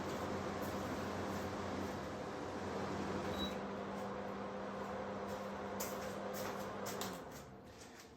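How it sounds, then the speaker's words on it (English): A dehumidifier in a honey extraction room gives off a steady, broadband hum and hiss, with a low droning tone underneath and some faint clicks, before the noise drops away near the end. "So the dehumidifier has been running great guns in here."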